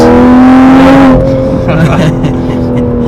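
A tuned 2020 Toyota Supra with an aftermarket downpipe, its engine rising in a loud, close revving drone that then drops off abruptly as if the throttle lifts, with a voice speaking over it.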